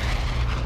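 Artillery fire-mission explosion in a video game, a short, loud, rumbling boom with no voices.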